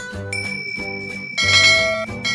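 A bell sound effect for a subscribe notification rings as bright, repeated dings with sustained high tones over a rhythmic, louder pulsing backing, with no speech.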